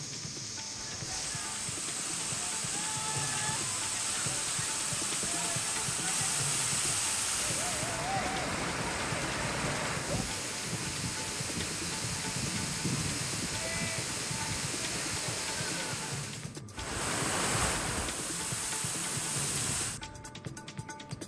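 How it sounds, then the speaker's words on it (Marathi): Monsoon waterfalls cascading at Chandoli, a dense, continuous rushing hiss of falling water, loud and sustained for the whole stretch, with brief shifts in intensity near the end. "चांदोलीमध्ये मनमोहक धबधबेही कोसळू लागलेत"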